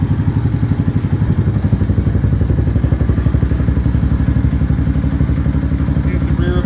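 A Venom Ghost 250cc motorcycle idles close by with a steady, loud, rapid pulsing putter from its twin exhaust, continuous throughout.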